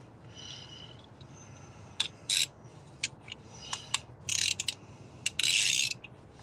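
A stuck part on a truck is worked loose with a tool, producing short bursts of sharp ratcheting clicks and scrapes at irregular intervals against quiet background noise.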